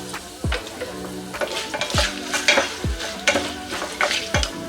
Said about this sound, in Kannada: ಗೋಡಂಬಿ ಫ್ರೈ ಆಗ್ತಿದ್ದಂಗೆ ಇದಕ್ಕೆ ಒಂದು ಅರ್ಧ ಸ್ಪೂನ್ ಅಷ್ಟು ವೈಟ್ ಎಳ್ಳನ್ನ ಹಾಕೋತಾ ಇದ್ದೀನಿ